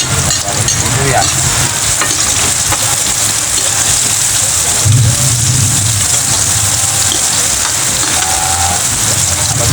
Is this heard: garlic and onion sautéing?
yes